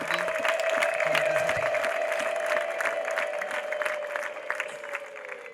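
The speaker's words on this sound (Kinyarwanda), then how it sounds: "Dukomere Imana yacu amashyi twese" Congregation applauding together at an evening church gathering, sustained dense clapping mixed with crowd voices and a steady tone underneath, fading slightly toward the end.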